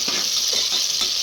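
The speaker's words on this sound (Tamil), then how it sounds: "வெங்காயம் நல்லா வதக்கிட்டே இருக்கணும்." Onions sautéing in a pan for biryani, a steady bright sizzle with a few soft stirring scrapes at regular intervals.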